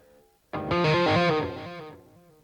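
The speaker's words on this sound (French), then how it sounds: "On va aller se mettre une petite reverb." A sustained chord with reverb added swells in abruptly, holds loudly for about a second, then fades into a lingering, softer tail.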